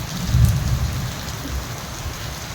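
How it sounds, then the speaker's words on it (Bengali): Rain falling steadily with a low rumble of thunder near the start, a dense close wash of drops continuing to the end, with no talking. "এই বৃষ্টিটা মনে হচ্ছে সব জায়গায় হচ্ছে"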